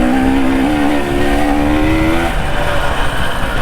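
A dirt bike engine drones loud and steady on a Montana mountain trail, holding a high revving pitch before settling into rough, rumbling running.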